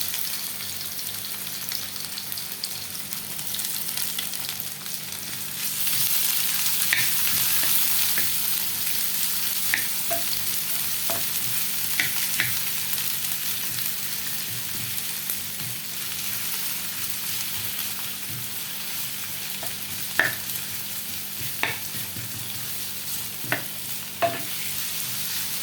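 Sliced onions fry in hot mustard oil for beresta, giving a steady loud sizzle that intensifies after they go in, punctuated by sharp ladle clinks and stirring scrapes, with no talking.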